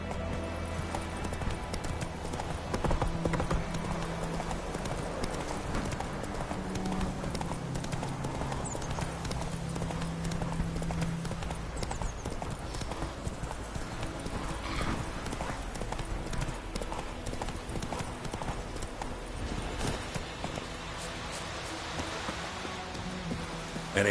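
In the Witcher 3 video game, the horse Roach trots with steady, rhythmic clip-clopping hooves, close and continuous over a soft outdoor ambience, with a brief snort or whinny.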